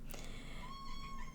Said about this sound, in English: my beautiful baby soul kitten just arrived